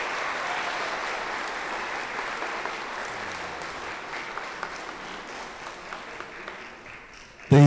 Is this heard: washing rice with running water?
no